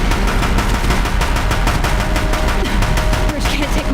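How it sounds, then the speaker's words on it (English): Deathbringer war machines in Horizon Zero Dawn pour sustained rapid gunfire onto a bridge, a loud dense unbroken barrage of shots with a faint voice murmuring underneath. "If the Deathbringers keep firing, this bridge will go."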